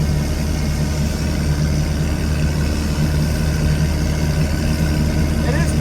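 A second-generation Cummins diesel truck engine runs at a steady idle close by, a low continuous rumble throughout with people talking over it.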